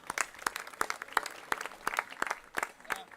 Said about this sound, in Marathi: प्रभाकररावसाठी टाळ्या झाल्या पाहिजे.